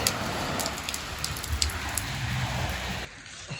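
Steady rain falls in the Bogside area of Derry, a continuous hiss of drops on surfaces close to the microphone, loud throughout before cutting off sharply near the end.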